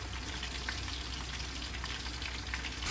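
Vinegar simmering in a pan for fish escabeche gives a steady, dense sizzle-and-bubble hiss, close and continuous throughout with no talk.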